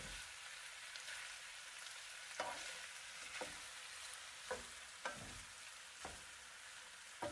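Chicken with fresh scallions stir-frying in a pan, giving a soft continuous sizzle broken by spatula strikes and scrapes about once a second; no talking.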